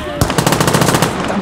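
Rapid machine-gun fire at advancing infantry in a war video game set during the Siege of Warsaw, a loud close burst of evenly spaced shots that runs almost continuously after a sharp opening crack.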